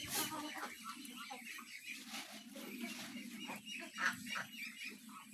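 Chickens on a farm cluck and squawk in a busy, fairly distant chorus of repeated calls, with faint talk mixed in.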